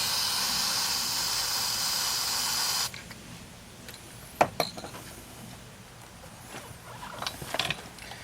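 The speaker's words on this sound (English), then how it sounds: "Just spray it on there" A spray can hisses steadily onto a convertible's interior door panel for about three seconds, then stops, followed by a few faint clicks and clinks close by.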